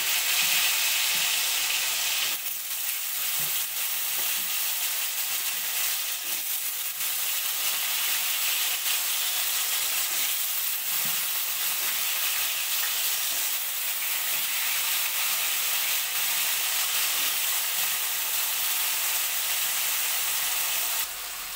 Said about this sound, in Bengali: তেলের মধ্যে অল্প একটু নুন দিয়ে আলুটা ভেজে নেব।